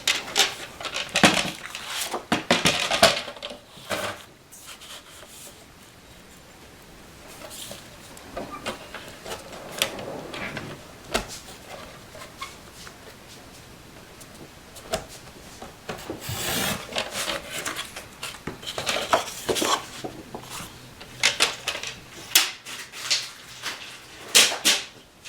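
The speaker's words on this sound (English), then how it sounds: "Then obviously I'm going to trim this excess off." Paper trimmed off a scrapbook page gives bursts of rasping, rubbing strokes, close and fairly loud, separated by quieter pauses of handling.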